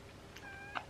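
A young cat gives a short, faint meow once or twice in a quiet indoor room, alone with no talking.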